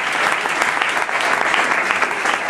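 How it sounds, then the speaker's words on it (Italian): Audience applause at a provincial council event, a dense steady wash of many hands clapping together, loud and close throughout the short stretch. "vi facciamo un bel applauso"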